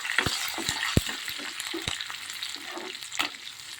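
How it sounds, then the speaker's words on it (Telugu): Curry leaves and garlic frying in hot oil for sambar, a steady close sizzle with crackling and a few sharp pops and spatula taps near the start. "ఇప్పుడు దీంట్లో కరివేపాకు, వెల్లుల్లి వేసేసుకుందాం. ఇది కూడా 2 మినిట్స్ ఫ్రై అవ్వాలి."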